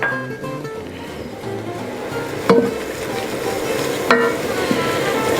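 A roux of 100 ml oil and 100 grams plain flour frying in a pot for gumbo, a continuous close sizzle with steady stirring scrapes and two sharper knocks of the utensil against the pan.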